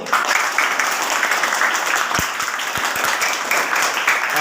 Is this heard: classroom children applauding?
yes